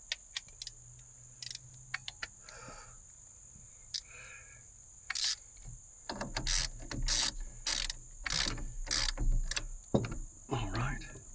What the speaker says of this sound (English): Give those just a little bit of a tighten before you take the power source off.